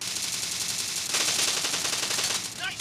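Rapid bursts of automatic gunfire from the battle royale video game PUBG, played on a Tecno Spark 7 phone, crackle steadily through the whole stretch and grow denser midway, with a few quick sharp tones near the end.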